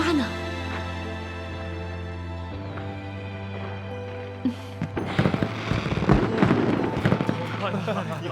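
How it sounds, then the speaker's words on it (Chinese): Fireworks go off in a period drama scene: after a quiet stretch with a low steady hum, a rapid series of crackling bursts and pops builds up and continues to the end. "怎么会有烟花呢？"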